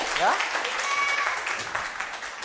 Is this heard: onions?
no